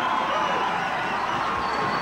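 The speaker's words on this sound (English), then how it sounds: "They've got some cheering to do" A dense, unbroken roar of cheering comes from Bison basketball fans packed into Trojan Fieldhouse, loud and even from start to finish. A voice is faintly audible underneath.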